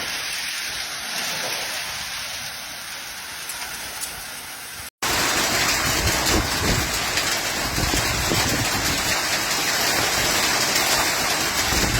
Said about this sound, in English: The heavy downpour caused localized flooding and dangerous driving conditions